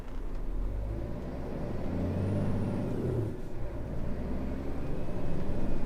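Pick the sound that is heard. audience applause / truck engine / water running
truck engine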